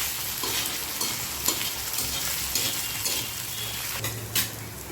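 Onion and ground spice paste for a tawa egg masala sizzles on an iron tawa, with a steady frying hiss broken by the scrape and clink of a spatula stirring the mixture.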